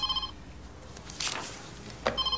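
A telephone rings in a doctors' health centre, with short bursts of electronic ringing at the start and end and a quiet room between.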